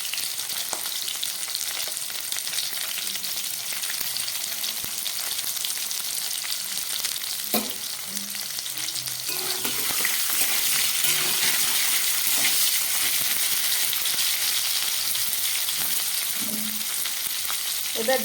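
Cauliflower and potatoes frying in a pan, a steady loud sizzle with occasional stirring clatters, no voices.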